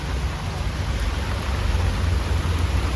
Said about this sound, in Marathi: इथे पावसाची एवढी लाट आलेली आहे अशी एकदम जोरात प्रकारे